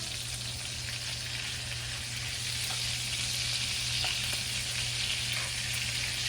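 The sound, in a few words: jalapeño chicken burgers sizzling in a pan, flipped over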